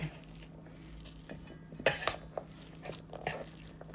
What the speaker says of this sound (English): what I'm going to do is just smash them with a potato masher